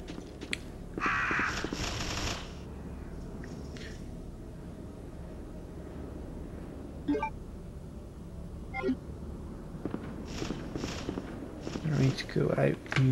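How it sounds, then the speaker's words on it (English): Crows cawing in a room in the video game Resident Evil 2, a few harsh calls scattered over a dim, ambient backdrop with faint footsteps and game noises, under a narrator's ongoing talk. "this is the room with my friends, the crows."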